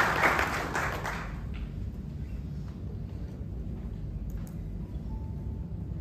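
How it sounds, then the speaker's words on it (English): Applause for farmers at a poultry farmers' welfare meeting, a burst of crowd clapping at the start that quickly fades into a low, rumbling room noise for the rest. "A big clap to them too."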